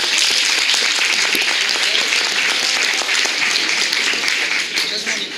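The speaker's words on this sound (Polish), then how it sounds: "Brawa!" Concert audience applauding in a music club as a guest keyboardist is introduced for a rock band, dense continuous clapping at steady loudness, fading slightly at the end.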